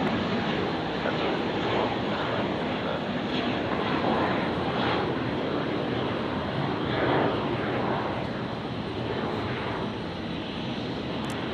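A jet departs Brisbane International Airport at night, its engine roar a broad, steady, loud rumble that holds for the full stretch without fading, with no clear talk over it.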